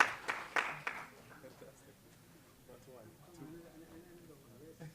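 An audience at a university graduation ceremony gives a short burst of clapping that quickly fades, followed by a voice speaking over a quiet hall.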